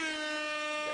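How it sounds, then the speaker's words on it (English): A loud, sustained air horn blast, a single steady brassy tone held for about a second. "I hit the air horn hard."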